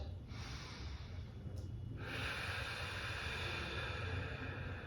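Deep breaths drawn in and let out slowly during a lower-body stretching routine, a soft, close, airy rush of breathing that swells and fades with no talk.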